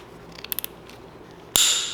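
Snips cutting plastic zip ties on a Datsun 520 truck, giving a few quick, sharp close-up clicks followed by a louder hissing burst.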